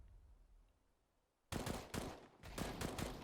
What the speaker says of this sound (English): Oh, the taps from the FAMAS.